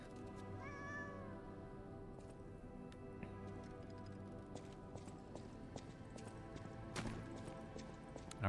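Cat meows rise from the ambient backdrop of the Lies of P video game, several short calls early on over a steady droning game soundtrack, with occasional clip-clop-like knocks scattered throughout.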